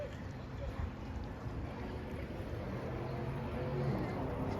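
Steady wind blows outdoors across the water near an inflatable toy boat, a constant rushing roar with low rumbling microphone buffeting and no clear talk.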